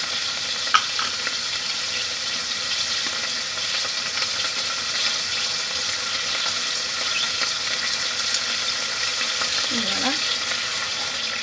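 Turkey strips simmering with crème fraîche in a frying pan give off a steady, even sizzle and bubbling hiss throughout, with a brief voice near the end.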